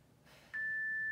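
A workout interval timer sounds one clear, sustained electronic beep that starts abruptly and holds steady to the end, over a quiet background.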